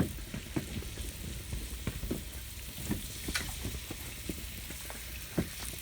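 Fish fillets caught ice fishing on Lake Simcoe fry in a flour coating in a pan, a steady close sizzle broken by scattered crackles and pops as they are flipped, with no talking.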